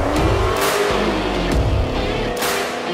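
Chrysler Hellcat V8 engine revving hard from inside the car, a loud continuous roar rising in pitch with brief shifts and surges, close and dominant, no talk.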